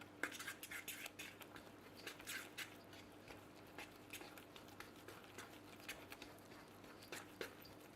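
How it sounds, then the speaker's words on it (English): A fork mixes wet and dry ingredients for Irish soda bread in a bowl, giving faint, irregular clinks and soft wet squishes scattered through a quiet kitchen, with no talking. "Here I take a fork to start off the mixing of the dry and the wet ingredients."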